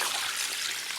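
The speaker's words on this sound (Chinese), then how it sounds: "加水。" Water pours steadily into a pot of blanched chicken heads with scallion, ginger and cooking wine, a brief close, bright rushing splash with no talking.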